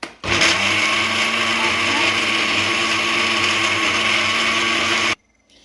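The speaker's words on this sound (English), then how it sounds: "So we're gonna blend this." A kitchen blender whirring through Jamaican-style pot roast pork seasoning: a loud, steady motor roar that starts abruptly and runs for about five seconds before cutting off sharply.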